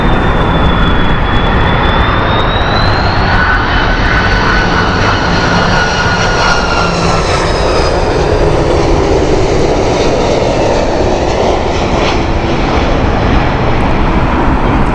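A blue-fuselaged airliner running late at Heathrow on a windy morning gives a loud, continuous jet roar with a high whining engine tone that rises and shifts pitch as it passes close by, with no voices.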